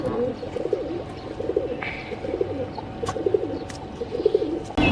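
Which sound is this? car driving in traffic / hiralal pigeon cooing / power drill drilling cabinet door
hiralal pigeon cooing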